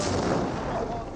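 Gunfire striking an outpost during an Age of Empires 4 battle, a dense, continuous rumble of shots and impacts that holds steady for the whole moment.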